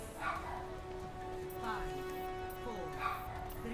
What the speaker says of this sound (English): I'm sorry if you can hear my dog. He's kind of going ham.